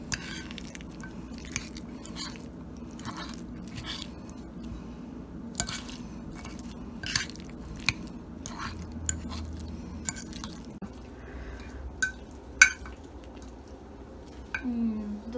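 Guacamole being mixed in a bowl, soft squishy mashing with intermittent sharp clinks of a utensil against the bowl, near and fairly quiet.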